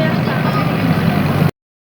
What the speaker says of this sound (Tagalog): Ito rin guys kasi ito tunog ng mga sasakyan.